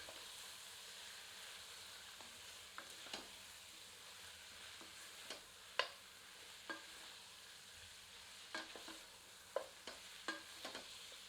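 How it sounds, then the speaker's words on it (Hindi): Spices and whole red chillies roasting over medium heat in a pan for Azamgarhi mutton curry, a quiet sizzle broken by scattered sharp clicks and spoon scrapes at irregular intervals. "अच्छे से मिलाते हैं और इसे 2 मिनट मध्यम आंच पर भूनते हैं"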